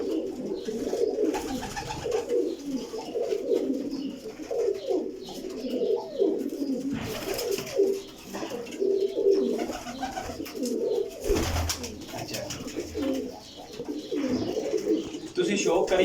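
Show pigeons, a champion Taddy breeding pair among many birds, coo in soft, repeated throaty bursts at close range while someone talks over them throughout.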